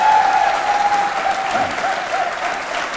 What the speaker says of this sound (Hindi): तालियां जोरों से बजाइए इस जानकारी के लिए।